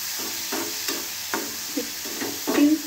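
Spring onion greens with a pinch of salt stirred in a frying pan, giving soft periodic scraping strokes about every half second over a faint, steady sizzle.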